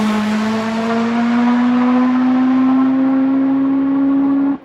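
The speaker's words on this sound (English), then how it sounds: "His bike, a Puma 1511cc nitro-fueled drag bike, puts out approximately 1500 horsepower" Puma 1511cc nitro-fueled drag bike, about 1500 horsepower, screaming through a run with a loud, sustained engine note climbing steadily in pitch before cutting off abruptly at the end.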